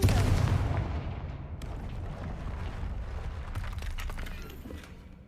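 A Confringo blasting spell explodes in Hogwarts Legacy, a loud booming burst with deep rumbling low end that fades into a sustained crackling roar and rolling echo.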